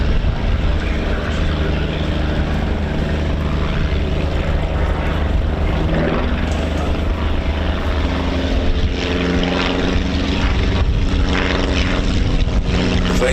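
Currie Wot, a small vintage propeller biplane, drones steadily through a pass at an airshow, its engine and propeller holding a continuous loud buzz with slight swells across the whole stretch.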